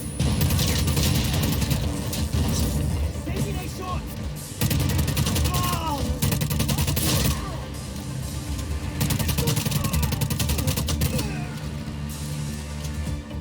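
Automated turrets firing in Just Cause 4: loud, sustained bursts of rapid gunfire and mechanical clatter, with short pauses between volleys and game sounds underneath.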